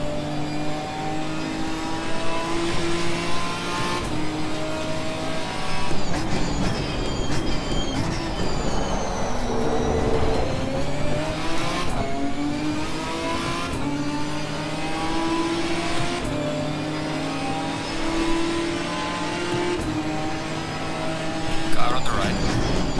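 A Ginetta G55 GT4 race car engine in Assetto Corsa Competizione revs and drops through gear changes, a continuous close whining drone that rises and falls in pitch over the lap.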